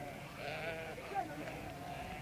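Sheep bleating in a remote, quiet village, wavering calls layered over one another at moderate distance while a person talks throughout.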